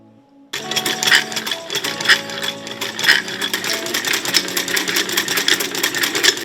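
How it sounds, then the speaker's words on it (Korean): An old Korean family sewing machine runs steadily, its rapid mechanical clatter continuous and loud after a brief quiet start. "이거 엄마가 쓰던 재봉틀이에요."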